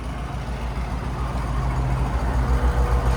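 A 2004 Mercedes E55 AMG fitted with long-tube headers and an X-pipe idles steadily and close by, its deep, even exhaust burble swelling slightly toward the end, with no voices.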